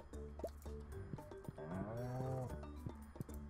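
Cows in Stardew Valley give several short, clear moos one after another, with a longer drawn-out low moo in the middle and no talk over them.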